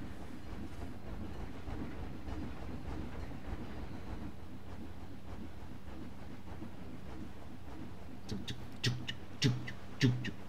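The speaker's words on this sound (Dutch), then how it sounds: "Hier is de hele mooie trein." A transport train rides its rails in the theme-park game Planet Coaster, a steady low rumbling roll with rhythmic clatter, and sharp metallic clicks and thumps join near the end.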